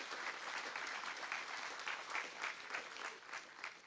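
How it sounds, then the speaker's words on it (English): An audience at an awards ceremony applauds steadily, a dense wash of clapping from many hands that holds throughout and swells slightly in places. "Let's give Wyatt a round of applause"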